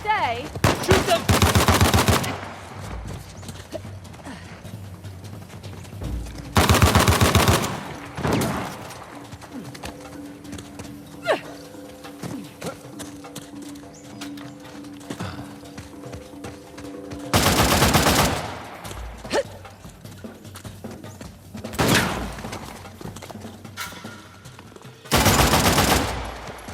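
Gunfire in the action-adventure video game Uncharted: The Lost Legacy, loud bursts of rapid automatic shooting in several separate volleys, with quieter ambient game sound between them.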